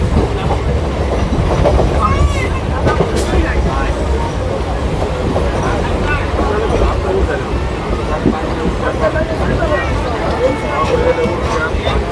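A suburban train on the Sealdah–Bangaon line runs on the rails near Dum Dum with a loud, steady rumble and rhythmic clatter heard from inside the carriage, under a murmur of passengers.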